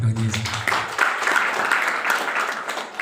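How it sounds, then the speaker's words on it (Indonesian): Audience at an Easter sermon clapping together after a preacher's prompt, a sustained wash of many hands applauding at moderate volume, with a voice heard briefly at the start. "Tepuk tangan dulu."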